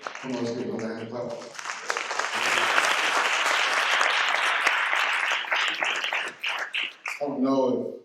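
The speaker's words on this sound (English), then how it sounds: "let's give another hand clap" Audience applause at a conference closing plenary, a sustained wave of hand clapping from a large room that swells and then tapers, with a speaking voice briefly at the start and end.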